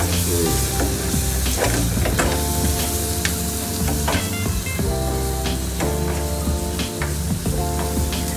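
Chilli powder being stirred into chicken curry in a frying pan, with steady sizzling and repeated scraping strokes of a spoon against the pan, loud and close throughout, over faint background music.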